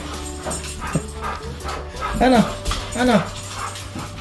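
Dogs bark and let out rising whimpering yelps in a couple of short bursts, close by, while people talk over and between them.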